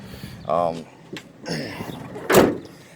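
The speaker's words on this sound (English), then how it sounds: "If I put the tailgate down" The tailgate of a 2012 Ram 1500 pickup is lowered, ending in a single solid thunk. Brief voice sounds come before it.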